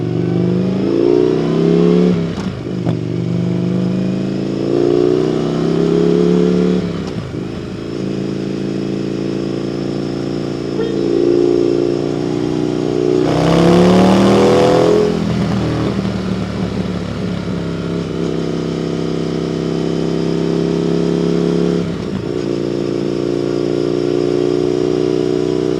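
An Indian FTR 1200 S motorcycle engine revs and pulls through the gears while riding, loud and close, with rising revs, shift dips, a sharp throttle blip midway and burbling deceleration.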